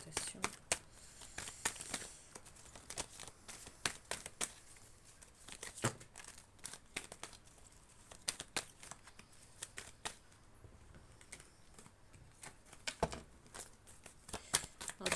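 Cards are handled and shuffled in quick papery bursts while a new card is taken, with crisp flicks and rustles scattered through the stretch and a voice talking at times.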